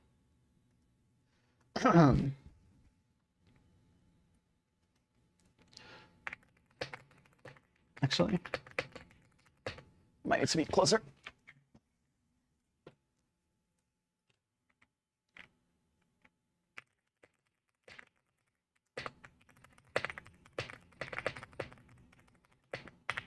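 Keys on a computer keyboard are tapped in scattered short bursts of clicks, close to the microphone, with a person talking briefly in between.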